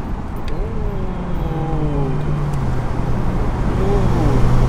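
Engine and road drone from inside a tuned BMW car accelerating, with rising and falling engine tones under steady road noise, and voices murmuring faintly in the cabin.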